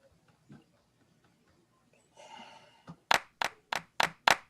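A crisp drum-machine clap sample from an Ilma Black kit, struck five times in a steady rhythm, loud and dry after a short stretch of quiet murmuring and a brief noisy swell.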